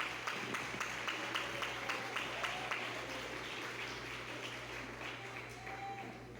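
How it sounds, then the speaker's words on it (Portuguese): A church congregation claps joyfully, making a dense, steady wash of applause with a faint rhythmic beat running through it. "dá uma salva de palmas bem alegre para Jesus"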